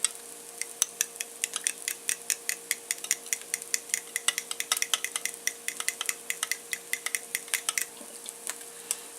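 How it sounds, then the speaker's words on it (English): Eggs with cheese whisked in a bowl, a quick run of light, sharp metallic taps and clicks repeating at a brisk, slightly irregular rhythm, quiet and close with no talking. "You whisk the eggs."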